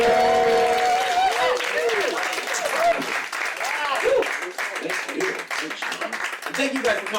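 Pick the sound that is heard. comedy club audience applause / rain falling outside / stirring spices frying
comedy club audience applause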